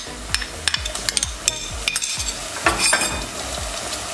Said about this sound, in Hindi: प्याज को हमने 3 से 4 मिनट के लिए अच्छे से फ्राई कर लिया है